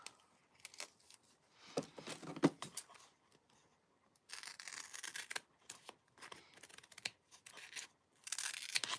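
Cardboard being cut for a DIY craft project, with intermittent bursts of tearing and scraping separated by short pauses, close and moderately loud with no talking.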